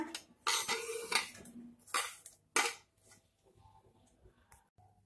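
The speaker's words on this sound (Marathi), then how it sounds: "मिक्सरच्या भांड्यामध्ये कापलेली कैरी घालूया" Cut raw mango pieces dropped into a metal mixer jar, heard as a few close, sharp clinks and clatters in quick bursts, then quieter scattered taps.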